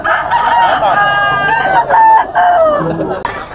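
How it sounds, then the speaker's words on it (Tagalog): At a gamefowl market in Bocaue, a nearby rooster crows loudly in a long drawn-out call, followed by a second crow, with other fowl and voices faintly behind. "Ito po is cock na rin, may gulang na manok."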